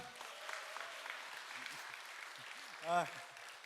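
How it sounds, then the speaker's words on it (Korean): Faint applause from a church young-adults worship audience after a testimony, a soft steady patter of clapping with a voice rising briefly near the end. "큰 박수 부탁드립니다"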